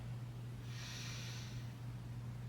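A single slow, soft inhale through the nose during a pranayama breathing exercise, a faint airy hiss rising and fading over about a second against a low steady hum.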